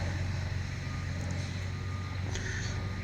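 A John Deere lawn tractor engine runs on its own at a steady idle, a low droning hum with a faint whine, close and continuous, no voices over it.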